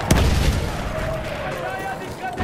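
A three-round burst rifle firing in the Battlefield 1 video game, sharp close reports at the start with booming fire and echoing battle noise trailing behind, under faint background chatter.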